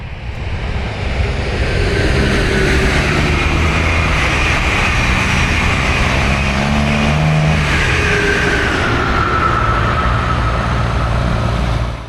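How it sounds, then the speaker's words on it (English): An eastbound Brightline ten-coach passenger train on the Orlando line at Dallas Boulevard rushes past, a loud, steady roar of wheels and wind that holds for the whole passage before easing off at the end. "First up is a 10-coach train heading east on the Orlando line at Dallas Boulevard."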